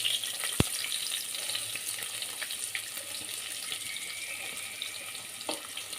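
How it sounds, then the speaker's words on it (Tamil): Chopped onions hit a hot pan with a sharp clack, then steady, loud sizzling of frying continues on its own. "இப்போ சாப் பண்ணி வச்ச வெங்காயத்தை போடுறேன்"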